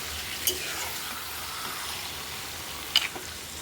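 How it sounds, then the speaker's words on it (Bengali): Beef fries in a pan with a soft, even sizzle, broken by a couple of sharp clinks or scrapes from stirring; no one speaks. "একটু ভেজে নেবো, হালকা একটু ভাজা ভাজা করবো"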